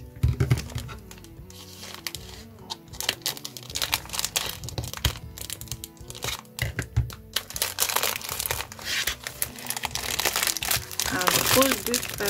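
Sheets of decorative scrapbooking paper being handled and crinkled, a rustling, crackling texture that runs throughout and grows denser toward the end, with someone speaking French at times.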